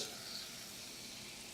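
Red snapper frying skin-side down in a pan, a soft continuous hiss and crackle of sizzling oil, faint and steady throughout.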